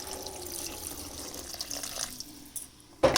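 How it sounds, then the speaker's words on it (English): Water is poured into a pan of potato masala for masala dosa filling, giving a soft watery trickle and sizzle that fades before a brief clatter at the end. "now add 1/4 to 1/2 cup of water"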